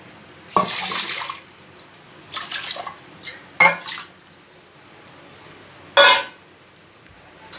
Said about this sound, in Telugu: ఇందులో కొంచెం వాటర్ వేద్దాం.